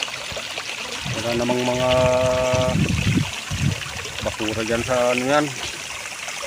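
Clean stream water used for washing dishes flows with a continuous trickling rush, close and steady, while someone talks over it throughout.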